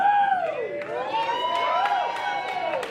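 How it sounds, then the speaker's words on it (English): A wrestling crowd cheers and shouts together in a large hall, a sustained, fairly close roar of voices with whoops rising through it and no break. "Did I ask for you guys to cheer?"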